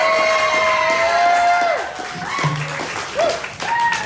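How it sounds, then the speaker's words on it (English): A studio audience at a comedy game show cheers and applauds loudly, with whoops and shouts over a steady wash of clapping that swells and fades across the moment. "cheer and applaud right now."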